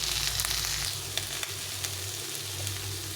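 Turmeric and spices frying in a pan for a potato and black chickpea curry, a constant close sizzle with faint scraping stirs and a low hum underneath, no voices.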